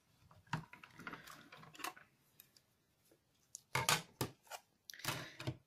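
A hand-cranked die-cutting machine feeds a die through, with close, uneven ratcheting clicks and crunching bursts separated by quiet gaps.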